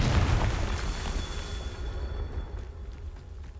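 Confringo fire spell explosion in the game Hogwarts Legacy, a heavy low boom with a rumbling burst that fades over a few seconds into a thin ringing tail.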